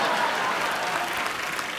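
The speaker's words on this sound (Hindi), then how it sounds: "जोरदार तालियां।" Studio audience applause on a Hindi TV comedy show, a dense, steady wash of clapping at full volume that holds for the whole span without any voices.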